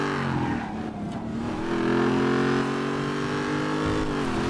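Car engine accelerating hard in GTA roleplay, a steady loud revving drone that holds and climbs across the whole stretch, with no talk over it.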